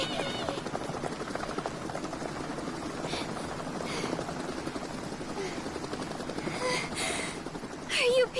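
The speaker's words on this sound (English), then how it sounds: "Oh look, helicopter." Helicopter rotor chop in the Danganronpa Ultra Despair Girls video game, a steady droning whir running throughout under game dialogue and effects.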